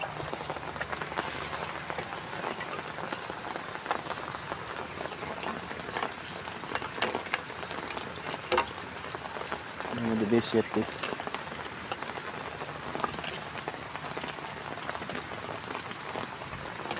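Rain falls steadily on a roof after a drainage pipe has jammed, making a soft continuous patter with a few louder splashes, while a person speaks briefly over it.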